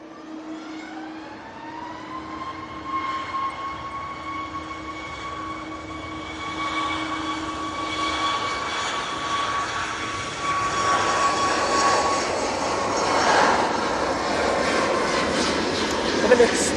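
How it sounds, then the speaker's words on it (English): Ryanair airliner arriving from Cork, jet engines rising from a distant whine to a louder roar as it nears, with someone talking at points. "Ryanair that's coming in from Cork"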